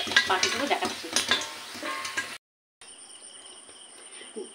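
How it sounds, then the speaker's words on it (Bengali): Thin potato chips frying in hot oil crackle and sizzle close by with a few clattering stirs, then briefly cut to silence before a quieter, steady hiss resumes. "এই করতে করতে অনেক সুন্দর ভাজা হয়ে যাবে"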